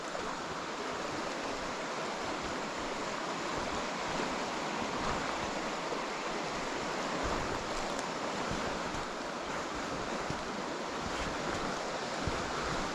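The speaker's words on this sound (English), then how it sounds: "you can see where the water's splashing up against the soil embankment here" Water washes and splashes steadily against a soil embankment along a river, a continuous broadband rushing and lapping heard up close with some wind noise and no voices.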